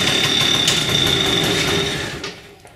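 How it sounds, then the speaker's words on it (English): A small Yamaha PW50 dirt bike engine runs with a rapid, buzzing two-stroke putter, loud and close, then fades quieter near the end. "I'll turn the gas on and give it a few swift kicks."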